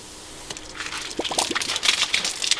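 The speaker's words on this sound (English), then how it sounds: "You can hear, you can drain the air." Air and water gurgle out of a rainwater storage pipe being drained, with bubbling splutters and irregular liquid gushes building over a few seconds, close by and moderately loud.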